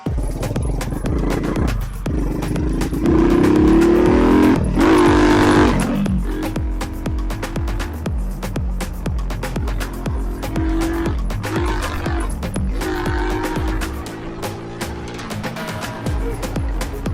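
A 125cc motorcycle accelerates hard during a top-speed test after a sprocket swap, its engine revving up through the gears with a loud rising whine and shifts, close by and continuous.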